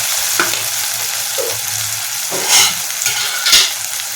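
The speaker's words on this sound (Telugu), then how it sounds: "ఇప్పుడు చికెన్ వేసేసుకోవాలి" Marinated chicken goes into a hot pan for chicken curry, frying with a loud steady sizzle and a few bursts of stirring and scraping, close by with no talk.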